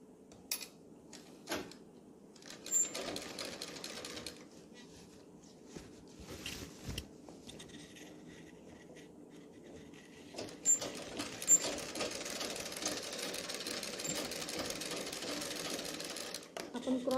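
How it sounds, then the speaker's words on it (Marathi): A domestic sewing machine runs a tacking stitch along a folded cross-cut strip on a kalidar kurta, a steady close whirring in bursts with short pauses and small clicks between runs. "पट्टी दुमडल्यानंतर वरून आपण एक कच्ची शिलाई मारून घेऊ."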